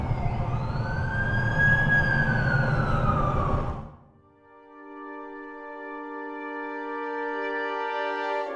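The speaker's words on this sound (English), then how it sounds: "That's the ambulance I called." A loud wailing ambulance siren in a video game sweeps up and down, then cuts out abruptly and gives way to a steady electronic hum.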